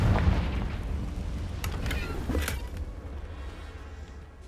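A Confringo fire spell bursts in Hogwarts Legacy as a deep rumbling boom, followed by a couple of sharp crackling hits and a slowly fading game rumble.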